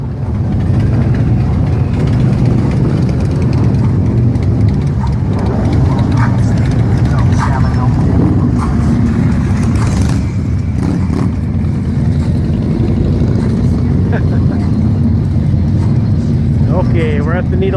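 A motorcycle cruises along Needles Highway in the Black Hills during the Sturgis rally, its engine drone and wind rush loud and close for the whole stretch without a break.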